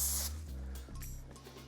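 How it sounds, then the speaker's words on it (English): A loud burst of hissing spray from an airless paint sprayer with its tip pointed vertically downward, opening strongly, then continuing over a low machine hum with several shorter spurts. "So I can either spray right now with my tip going vertically downwards"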